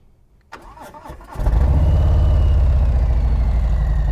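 A Harley-Davidson Sport Glide motorcycle engine cranks briefly, then catches and settles into a loud, steady, deep idle that continues to the end.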